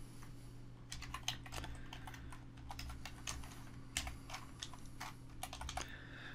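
Steady, fairly fast typing on a computer keyboard, a run of crisp clicking keystrokes with brief pauses, close and clear over a low constant hum.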